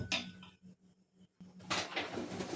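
A ladle stirs and scrapes boiling milk in a pan for malai laddu, making a quick run of metallic clinks and knocks against the pan, then a quiet stretch, then louder scraping and rattling.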